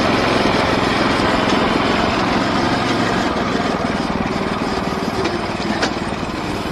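A small engine drives a go kart built to look like a VW bus, droning loud and steady from close by for the whole stretch, with no voices over it.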